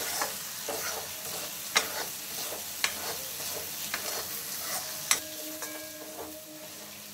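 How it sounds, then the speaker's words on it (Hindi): Spices fry in oil in a pan with an ongoing soft sizzle, broken by several sharp spoon knocks and scrapes from stirring, close and fairly quiet. "हम ऐसे ही चला करके थोड़ी देर भूनेंगे"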